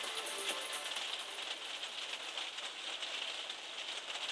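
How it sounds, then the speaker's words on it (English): Steady rain falling throughout, a constant hiss of drops with faint crackling patter, no voices. "You can hear the rain."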